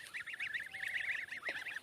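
A flock of domestic farm geese honking repeatedly in a rapid, overlapping chorus, fairly close, with no talking.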